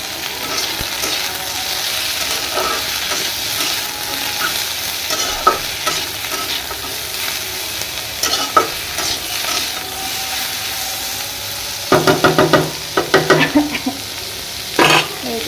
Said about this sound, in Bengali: করলা ভাজি আমরা করলা ভাজিতে হলুদ খাই না